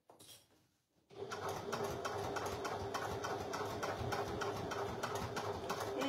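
A sewing machine stitches back and forth on a suede bag, starting after a short quiet pause and then running in a steady, rapid, rattling rhythm close by.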